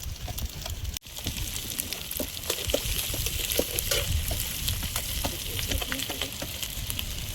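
Whole spices tempered in hot oil, making a steady, dense sizzling crackle with scattered pops and a brief clink near the start, close and continuous.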